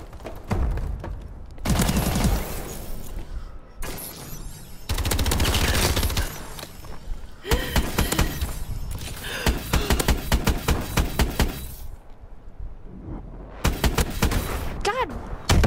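Loud bursts of rapid gunfire from the shooter game Call of Duty: Advanced Warfare come in repeated volleys separated by short pauses, with a player's voice talking between them.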